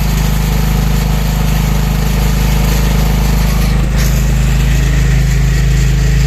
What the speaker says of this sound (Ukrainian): Генератор сам завівся.